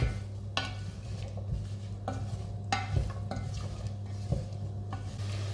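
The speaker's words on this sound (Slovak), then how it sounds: "teraz pridáme nakrájanú zeleninu a budeme ju restovať, pokiaľ nám nezačne voniať" Chopped vegetables sautéing in melted butter in a pot, a soft steady sizzle broken by repeated scraping stirs of a utensil against the pot, close and moderately quiet.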